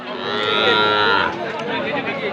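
Sahiwal bull calves at a busy cattle market, one loud, drawn-out moo close by lasting about a second, followed by crowd murmur.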